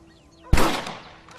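A single sharp rifle shot in the video game Red Dead Redemption, a loud crack followed by a gradually fading echo tail, standing alone against a quiet background.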